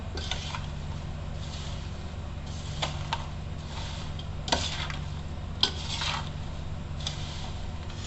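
Mango pickle with oil and spice masala gets stirred in a metal pot, with scattered scraping clinks and a few sharper knocks of a utensil against the vessel over a low steady hum, no voices.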